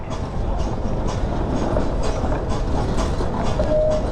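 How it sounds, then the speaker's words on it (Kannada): A train on the Ooty line passing at Coonoor, giving a steady, close rumble with rhythmic wheel clatter and a brief squeal near the end, heard alone without talk. "ಇದೆಂತ ರೈಲು ನೋಡಿ ಮಾರಿ, ಸೂಪರ್"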